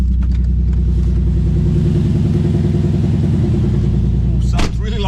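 A Nissan 350Z fitted with test pipes and a remap idles loudly at close range, a deep, steady, throbbing exhaust rumble that holds throughout, with a brief disturbance near the end.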